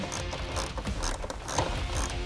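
Ratcheting and clicking of a hand tool backing out two 10mm screws from the airbox on a Corvette C7 Stingray, a close, steady mechanical clatter running throughout with no talking.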